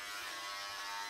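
Electric clippers shave a chihuahua, giving a steady, close, high-pitched buzz that holds evenly for about a second with no pauses.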